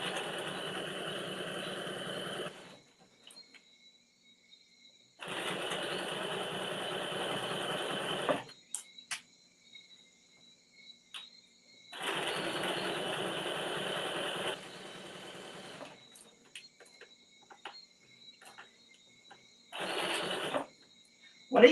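A sewing machine stitches a dress from a Simplicity 9598/9599 pattern, running in steady bursts of about two to three seconds, separated by quiet pauses, ending in a short final run.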